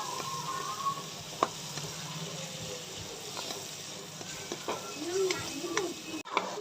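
Onion, tomato and green chillies fry gently in a pan for a chicken macaroni masala, a low steady sizzle with scattered stirring scrapes and light clinks, moderately close.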